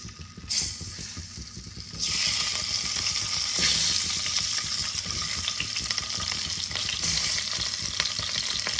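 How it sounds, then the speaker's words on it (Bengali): Eggs fry in a pan with turmeric and red chili powder, starting with a soft sizzle that surges into a loud, close, continuous frying hiss with occasional stirring scrapes, and no voices. "অল্প রেড চিলি পাউডার দিয়ে দিলাম। ডিমগুলোকে আমি ভেজে নেব।"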